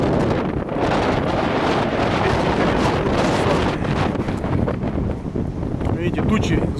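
Steady, roaring wind buffets the microphone outdoors in a village on Tenerife, Canary Islands, a continuous broadband rush with gusty fluctuations and no pauses.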